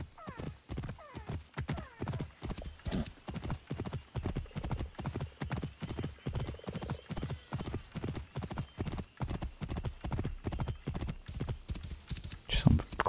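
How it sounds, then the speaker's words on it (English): A horse's hooves clip-clop at a steady, brisk pace in the video game Assassin's Creed Origins, the regular beats continuing for over thirteen seconds, moderately loud, with a person talking over parts of it. "this is not a camel, this is an actual horse"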